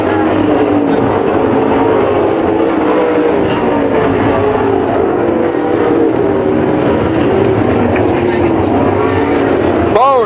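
Sprint cars racing on a dirt oval at Waco, Texas, including car number 84, roar continuously and loudly with engine drone throughout, with a race announcer talking over the noise.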